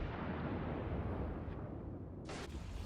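Battleship guns fire in the naval combat game World of Warships, a dense rolling boom and rumble that fills the whole stretch, with a sharper burst near the end.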